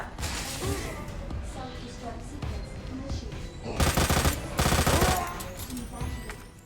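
Rapid gunfire from a gun in Resident Evil 2, a long mag-dumping burst of loud shots in two dense stretches, over ongoing game sounds with a voice speaking.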